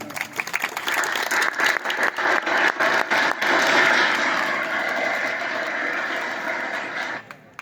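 Loud, sustained applause from an audience at a college Punjab Culture Day, greeting a young poet before a Punjabi poem, with a few scattered early claps swelling into a dense wash that fades near the end.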